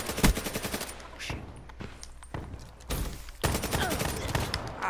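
Shotgun and rapid gunfire in a shooter video game crack out in loud bursts, with quieter stretches between volleys and faint footsteps underneath.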